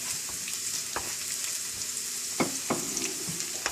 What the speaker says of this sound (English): You can allow the garlic and ginger to get a bit of golden color.